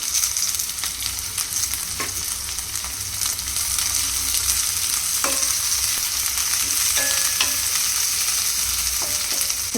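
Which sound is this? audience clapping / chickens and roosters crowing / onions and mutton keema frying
onions and mutton keema frying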